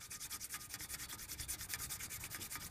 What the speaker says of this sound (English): Could use some more, do some more filing here